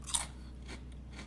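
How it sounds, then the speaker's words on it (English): Salt and pepper Ripple potato chips crunched in the mouth, a sharp close bite at the start followed by a few softer chewing crunches, alone with no talk. "they have this weird crunch inside the crunch, like inside them"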